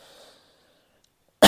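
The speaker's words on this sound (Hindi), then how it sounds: "सॉरी गाइस, थोड़ी खांसी हो गई लग रहा है।" A single sharp, loud cough bursts out close to the microphone after near silence, following a faint trailing voice.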